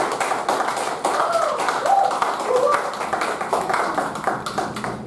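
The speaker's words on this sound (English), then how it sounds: "let's put our hands together for TM Achintya Suresh" Audience at a Toastmasters club meeting claps steadily, a dense patter of many hands lasting the whole stretch, with voices and cheering mixed in underneath.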